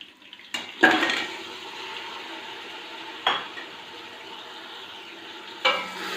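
Beef mince tipped into a karahi of hot oil with whole spices, sizzling steadily while being stirred, with three sharp clatters of the spoon against the pan at intervals and no talk.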